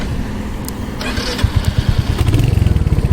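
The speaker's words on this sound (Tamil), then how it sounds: "இப்போ நம்ம ஸ்டார்ட் பண்ணி அந்த சத்தத்தை கேட்போமா?" A Royal Enfield Hunter 350 Metro motorcycle's single-cylinder engine cranks and fires up, then settles into a steady, close, loud thumping idle rhythm.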